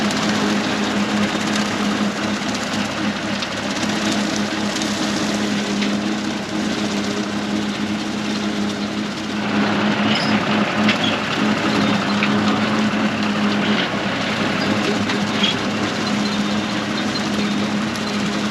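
Tractor engine running steadily outdoors on a windy farm while clearing brush behind high tunnels, a continuous mechanical drone with a low hum, heavy wind noise over it, no voices.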